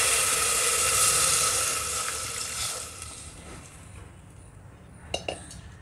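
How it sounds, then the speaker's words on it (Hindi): Water poured into a hot pan of sizzling ginger garlic paste with green chillies for toor dal pulao, a loud broadband rush and sizzle that fades over several seconds, followed by a few faint clinks. "हरी मिर्च डाल देंगे और साथ में पानी भी डाल देंगे।"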